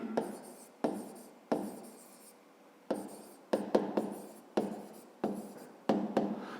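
A pen writes on paper while working a fifth-grade maths exercise. Short, scratchy strokes come in about ten quick bursts, each starting sharply and fading. The sound is close and faint, with no talk over it.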